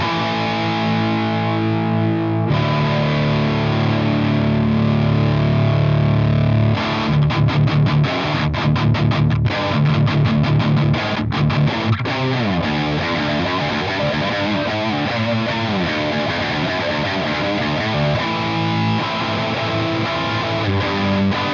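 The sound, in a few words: electric guitar through Peavey 5150 virtual preamp, no power amp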